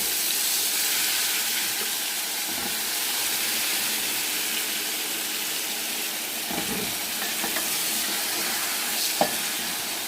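Ridge gourd cut into large slices frying in a pan in a village kitchen, giving a steady broad sizzle throughout with a few soft stirring clinks, close by and without talk.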